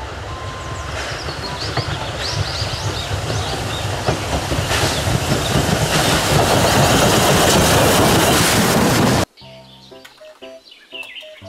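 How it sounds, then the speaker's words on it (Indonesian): Toy Thomas train running on its track, a steady busy rattle and clatter with chirpy tones building over about nine seconds, then cutting off abruptly to a quieter tail. "Kereta Thomas."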